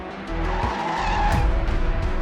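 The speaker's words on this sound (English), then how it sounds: "The car swerved and went over an embankment." A car's tires skid and squeal as it swerves out of control, a loud continuous screech over engine noise lasting about two seconds.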